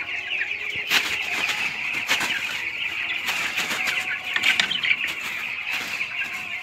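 A flock of young broiler chickens in a poultry shed clucks and cheeps constantly, with bursts of wing flapping and scattered peeps, close and busy without any talk.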